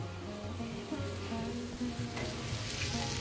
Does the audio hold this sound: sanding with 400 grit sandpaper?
no